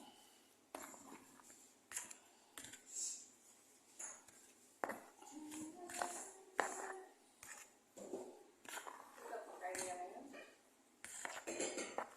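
Ginger powder, cardamom and cloves are stirred together for karak tea, with scattered spoon-on-dish clinks and scrapes in irregular bursts, while someone talks in between.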